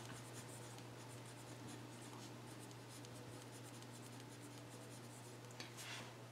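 Notes written by hand during a math lesson, a strong, continuous, close scratching of pen on paper over a steady low hum.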